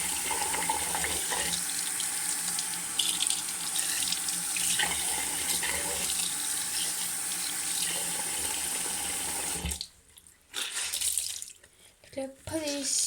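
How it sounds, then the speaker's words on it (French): A bathroom tap runs steadily as a washcloth is washed under it, a continuous close water rush that stops near the end, followed by a few faint drips and handling sounds. "Donc là je vais laver mon gant"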